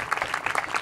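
Congregation clapping at an outdoor Christian satsang in a Punjab village, a brief steady patter of many hands with no voices over it.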